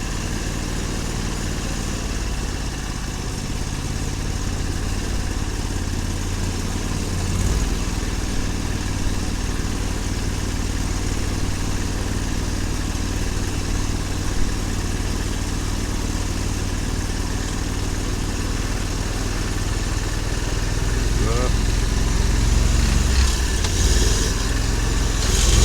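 A boat's outboard motor runs with a steady mid-pitched hum, continuous and fairly close, rising slightly near the end with a few small knocks.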